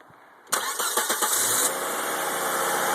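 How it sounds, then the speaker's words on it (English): A 1995 Volvo 850 with a faulty fuel injection relay cranks with a few quick starter pulses, then catches and settles into a steady, fairly loud idle that runs to the end with no voices. "And the car starts right up."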